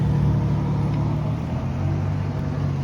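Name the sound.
loud cars nearby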